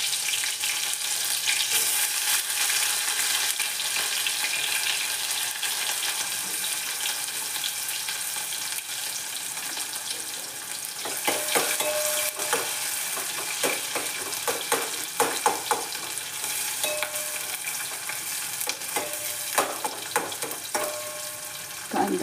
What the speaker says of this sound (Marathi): हा चिरलेले कांदा आणि मिरची घालायचं.